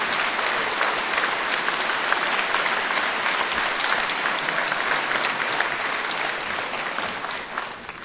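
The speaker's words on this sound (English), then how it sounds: "Let's give our new members a great round of applause" A legislative chamber audience gives sustained applause to newly elected legislators, a dense, even wash of clapping from many hands that holds steady and then tapers off slightly near the end.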